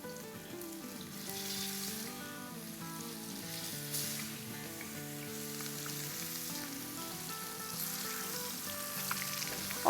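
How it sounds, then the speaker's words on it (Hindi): Fish frying in hot oil in a pan gives a steady, continuous sizzle for the whole stretch, set against constant background music. "फिश को हम डाल देते हैं फ्राई करने के लिए।"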